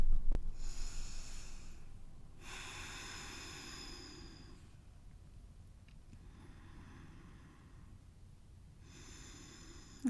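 Slow yoga breaths with audible airy inhales and exhales, a few long drawn cycles that are soft and close, with a faint low hum underneath and no talking.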